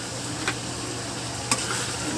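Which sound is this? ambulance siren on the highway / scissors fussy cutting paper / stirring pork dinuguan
stirring pork dinuguan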